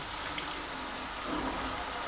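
Water is poured from a small bowl into flattened rice (poha) while cooking kande pohe, a soft steady splashing pour that runs close and fairly quiet for about two seconds.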